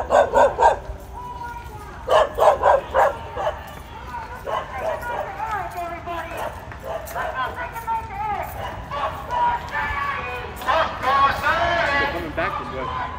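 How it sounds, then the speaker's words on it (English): Angry police dogs bark at a Los Angeles street protest near riot-gear officers, loud close bursts of repeated barks and yips in clusters, with people talking amid crowd noise. "We got angry dogs."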